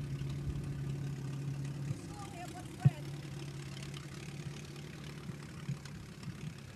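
A Case CC antique tractor engine idles with a steady low hum at a threshing show, a brief sharp pop near the middle, heard at moderate distance under a faint background murmur.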